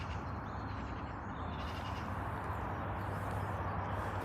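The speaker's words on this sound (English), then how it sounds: "loads of seagulls down there as well" Gulls calling over a fishing bank near a canal, cries blurred into steady wind-like outdoor background noise throughout, with no speech.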